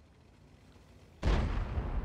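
A single loud, sudden shot from an EBR in a tank video game, cutting in after a quiet lead-in and leaving a deep booming rumble that lingers to the end.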